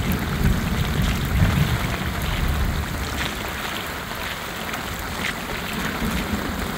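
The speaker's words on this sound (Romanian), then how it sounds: "apoi a început să plouă torențial" Torrential rain pours down during a severe storm in Mehedinți, Romania, as city streets flood. It makes a dense, steady roar that stays loud and close throughout, with no voices.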